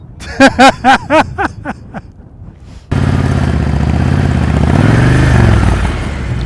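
A motorcycle engine holds a steady, fairly loud hum during slow-speed riding practice, rising slightly as the throttle is held. A few short, clipped vocal sounds come first, then the engine runs continuously for the rest of the time.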